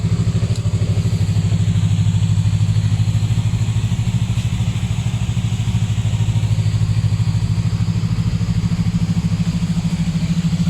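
A Yamaha MT-03 motorcycle from 2016 with about 22,000 km runs at a steady idle, its engine a loud, even, close throb with no revving, and no one talks.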